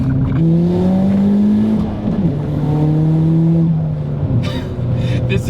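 Big-turbo Ford Fiesta ST hatchback accelerating hard, its engine note climbing through the gears with loud, continuous drive and brief lifts between shifts; a hissing wastegate flutter is not clearly separable.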